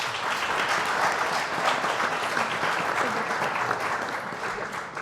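Sustained applause from a large audience honoring volunteers at an official French team presentation ceremony, dense steady clapping filling the whole stretch without a break.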